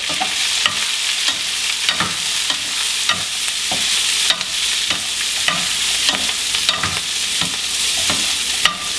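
Steamed green beans in burnt butter with almonds are tossed with salt and pepper in a hot pan, a loud continuous sizzle broken by repeated rhythmic scraping and stirring strokes throughout.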